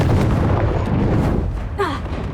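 A booming explosion from the Confringo fire spell in Hogwarts Legacy, a loud, rumbling blast that fills most of the moment before tapering off, followed by a brief whooshing effect.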